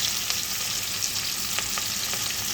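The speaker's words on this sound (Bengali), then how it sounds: "পেঁয়াজটা ভালো করে ভেজে নেবো।" Onion frying well in hot oil, a bright, steady close-up sizzle with faint intermittent pops and clicks, no voices.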